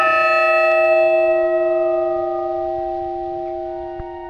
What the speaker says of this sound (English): The clapper swings against the bell as normal, but the sound gets muffled because of the leather pad between the bell and the clapper.